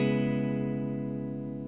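A clean electric guitar tone played through an amp, used in a demo of the Electro-Harmonix Soul Food transparent overdrive pedal; a single sustained chord rings steadily and slowly decays, with no talking.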